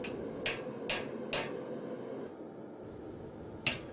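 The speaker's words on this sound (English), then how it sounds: "Now I'm going to use the eye punch, or center punch first, to mark his eye sockets." Center punch struck against forged metal held in a vise, marking eye sockets on a wrought dragon head: three sharp metallic taps about half a second apart, a pause, then one more tap, over steady workshop hiss.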